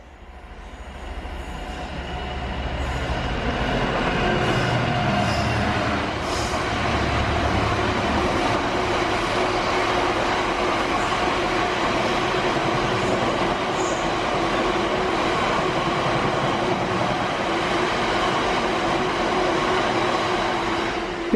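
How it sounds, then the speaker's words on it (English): A train rumbles steadily through a station platform without stopping for a long stretch, wheels rolling and clattering on the rails without pause. "They've just announced a train coming straight through platform 4."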